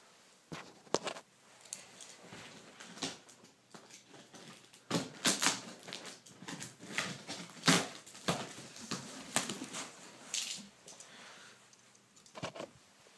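A large parcel of Pokémon cards being opened by hand: close, irregular crackling, rustling and tearing of packaging in uneven bursts, louder in the middle stretch, with no talking.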